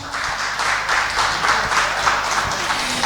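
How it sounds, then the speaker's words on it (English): An audience at a tourism event applauds a tour guide, with sustained, fairly loud clapping from many people mixed with a low background hum, filling the whole stretch evenly without speech. "Give her a big round of applause"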